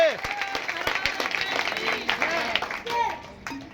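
Loud clapping from a seated crowd at a religious gathering at Shani Dham in Gurugram, quick overlapping hand claps close by, mixed with voices and children talking throughout.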